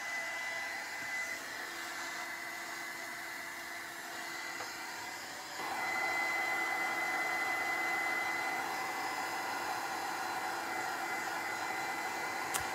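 A hair dryer runs steadily on a camera craft project, a constant whooshing blower drone with a whine that steps up louder about halfway through as the airflow changes, heard alone with no talking.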